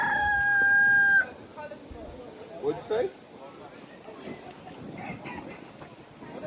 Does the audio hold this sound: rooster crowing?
yes